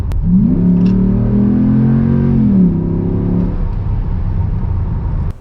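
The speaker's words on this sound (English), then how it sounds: "You can really hear that HEMI roaring." A RAM 5.7L HEMI V8 with a Flowmaster Delta Force intake revs up close and loud, holds a high roar for a couple of seconds, then drops back to a rough idle.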